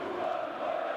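A basketball arena crowd at a FIBA World Cup European qualifier between Bosnia and Herzegovina and Switzerland roars in a steady, dense wash of cheering voices, loud and sustained throughout.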